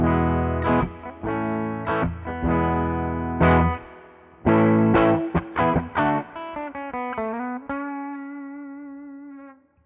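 Bright, twangy Sterling Cutlass CT20 electric guitar on the bridge pickup plays a run of plucked notes and chords with a clean tone, ending on a sustained, slowly fading note.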